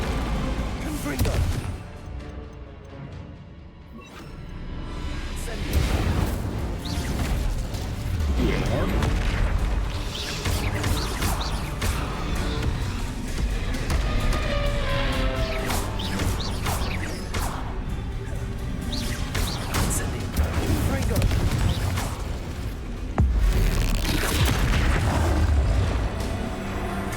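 Repeated Confringo fire spell blasts during a Hogwarts Legacy boss fight, a long loud stretch of crackling booms and crashes with mechanical clatter, a voice talking over the din at times.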